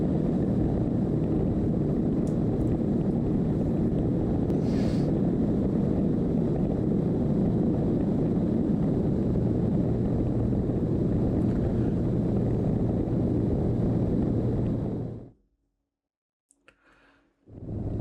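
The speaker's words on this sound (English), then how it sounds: "So I'm just flying right over the freeway, as you can see." Small airplane cruising over a freeway on approach to Van Nuys Airport, with a steady loud engine drone and wind rush filling the cabin until it cuts out abruptly near the end.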